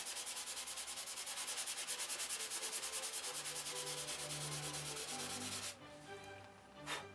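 Hand sanding of wooden furniture, a steady rhythmic rasping scrape repeating in fast even strokes for most of the clip, then stopping abruptly into quieter handling noise and a brief final rub.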